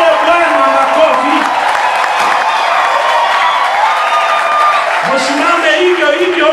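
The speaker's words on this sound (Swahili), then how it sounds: "Tumpatie Bwana makofi." A church congregation claps together in sustained, dense applause, with voices rising over the steady clatter.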